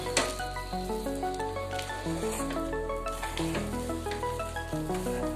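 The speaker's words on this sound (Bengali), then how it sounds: "এইভাবে নাড়তে থাকছি যতক্ষণ না আরো আঠা আঠা হয়ে যাচ্ছে।" A sticky coconut barfi mixture is stirred in a wok, with a soft sizzle and rhythmic scraping of the spoon running steadily beneath background music.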